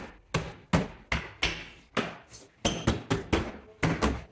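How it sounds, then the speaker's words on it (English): Plastic clips on a Subaru Impreza door panel snapping into place, a run of about eleven sharp, close snaps in an uneven rhythm, some spaced apart and some in quick succession. "line it up into place, work our way around, snapping all of the plastic clips"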